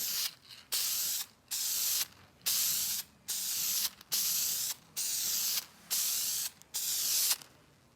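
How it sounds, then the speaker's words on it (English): Warmed lacquer is sprayed onto an acoustic guitar from a kit build in about nine steady hissing bursts, each roughly half a second long with brief pauses between, close and fairly loud, with no talk. "The lacquer has been warmed up so it sprays effectively."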